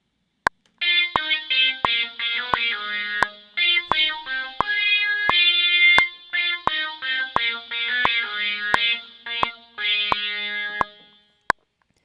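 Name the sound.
solo from a song remade in Logic Pro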